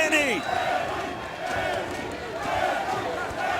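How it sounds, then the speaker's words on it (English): Arena crowd at a GLORY 38 kickboxing superfight between Anderson Silva and Benjamin Adegbuyi chants in a steady rhythmic roar, loud and continuous under a commentator's voice. "The crowd chanting, Benny, Benny."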